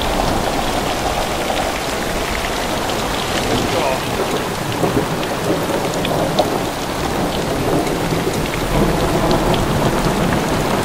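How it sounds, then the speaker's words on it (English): Heavy rain pours down on safari in a dense, steady roar, with low rumbles of thunder rolling beneath the downpour. "Full on rain."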